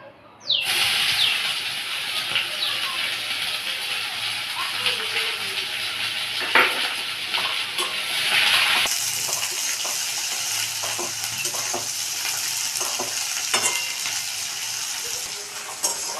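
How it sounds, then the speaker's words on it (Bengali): Chopped onions fry in a pan with a steady, close sizzling hiss that runs throughout, broken by occasional clicks and scrapes of stirring. No voices are heard. "এবার আমি কুচানো পেঁয়াজগুলো ভেজে নেব।"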